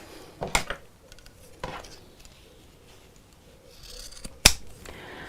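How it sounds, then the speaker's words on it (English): Scissors snip through the ends of a zip on a fabric pouch, with a few sharp, close cuts spaced apart over quiet room tone. "Now we can snip off the ends of the zip."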